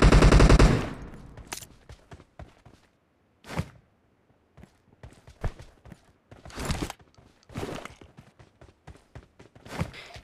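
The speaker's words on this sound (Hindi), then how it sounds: "यहाँ से साउंड आता है कि भाई कोई भाई फायरिंग कर रहा था अभी" Automatic gunfire in the mobile battle royale game BGMI, with sharp bursts and single shots scattered through the clip, a dense loud burst at the start, then intermittent volleys at varying distances.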